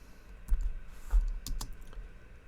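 Keystrokes on a computer keyboard, a few soft clicks and one heavier spacebar tap in a short quiet burst close to the listener.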